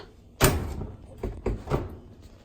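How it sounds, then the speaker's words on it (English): A clothes dryer door after its hinge side has been switched swings shut with a sharp close-up thud, followed by a few lighter knocks and taps from the door settling against the machine, with no talk. "And the door shuts the opposite direction."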